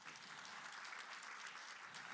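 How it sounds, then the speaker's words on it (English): Sustained applause from an audience at an education conference, honouring the presenters, a dense steady clatter of many hands clapping throughout without a break. "Let's give our presenters a very big round of applause."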